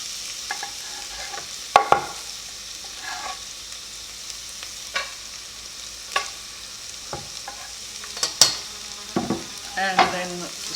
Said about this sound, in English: Onions are cooking up a bit. They're getting there, so I think we can put the garlic in now.